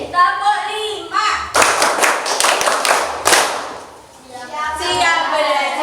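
A group of children claps in a rhythmic counted pattern during a classroom chant, several sharp bursts of clapping in a row, close and loud, with voices calling out between the bursts.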